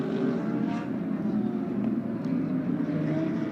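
GT race cars at the Indianapolis speedway accelerating for a restart, a steady, dense engine drone with overlapping pitches holding loud and constant throughout.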